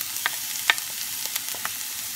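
Cauliflower rice sizzles as it is stir-fried in a pan, a close steady frying hiss broken by several light scrapes of a spatula, with no talking.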